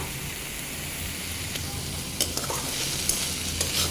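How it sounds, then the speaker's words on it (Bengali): Food frying in a pan with ketchup as it is stirred, a dense steady sizzle with occasional sharp spoon taps, close and uninterrupted by voices. "এখন একটু কেচাপ দিয়ে নাড়াচাড়া করে নামিয়ে নেব"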